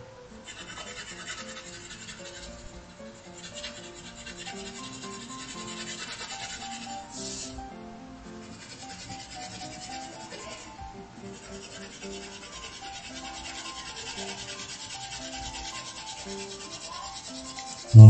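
Colored pencil shading an apple drawing on paper, a soft steady scratchy rubbing that continues through the whole stretch, close and faint.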